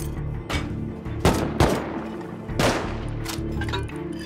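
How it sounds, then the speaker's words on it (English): Gunfire in a survival video game as players shoot at a base's walls, several sharp shots at irregular intervals over a dense game-sound backdrop, fairly loud. "they're shooting walls like they might raid this"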